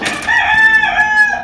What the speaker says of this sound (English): Forgive my chicken, he's cooking.